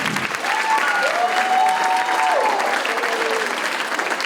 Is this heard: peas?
no